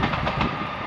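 A train on the Kyle of Lochalsh to Inverness line approaches near Fodderty Junction in the Scottish Highlands. It makes a brief, steady, loud rumble with a low drone, heard alone.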